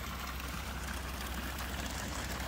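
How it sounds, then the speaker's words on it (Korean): Water trickles steadily through a narrow channel into a rice seedbed paddy in the countryside, a constant soft rushing flow close by with no voices. "모자리 논에 물 넣었다가 빼는 소리"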